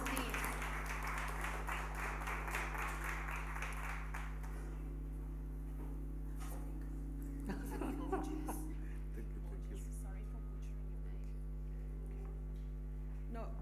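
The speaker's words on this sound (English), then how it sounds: "Round of applause, please." Audience applause at a sports awards evening, with a burst of clapping and some laughter over a loud, steady electrical hum, fading after a few seconds into murmuring and voices.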